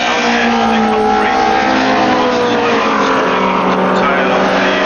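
At Brands Hatch, Alfa Romeo race cars of the Dutch Trofeo roar past in a loud, sustained engine howl with rising and falling pitch as several cars go by close, while a commentator talks over them.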